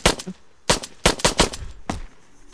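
Pistol fire in Arma 3 cracks out in sharp, close shots, a single report, then a quick cluster of three or four and a final lone shot, each dying off fast against near silence.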